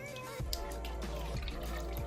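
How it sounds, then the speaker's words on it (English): Water draining out of a soaked do-rag in a bathroom, a close, continuous wet trickle and dribble with a few splashy drips over a low steady hum. "Just drain all the water out."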